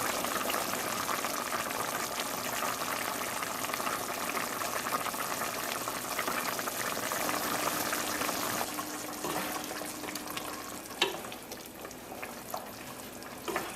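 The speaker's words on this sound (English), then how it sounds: "allow it to cook to the consistency that you like, and let the gravy thicken up" Chicken curry simmers in a pot as the gravy thickens, a continuous bubbling, gently crackling boil heard up close, with a few faint clinks and knocks near the end.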